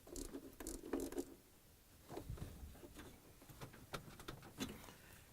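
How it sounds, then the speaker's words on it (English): A 70 mm socket wrench ratchets against a tub bearing clamp on an LG/Kenmore washer, faint close clicking in short bursts separated by pauses. "now we're going to use a 70 mm socket wrench to tighten the clamp."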